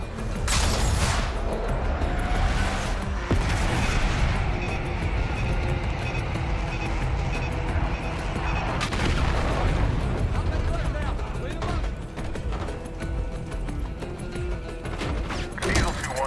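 Aircraft bombs going off in Call of Duty: Black Ops 6, heavy rolling explosions and rumbling blasts that pile up loud and continuous, with a voice speaking over the bombardment.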